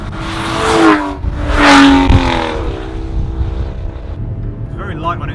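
An Aston Martin DB9 GT's V12 engine rises in two strong revving surges as the car drives, then settles into a lower steady drone with road noise, heard close from inside the car.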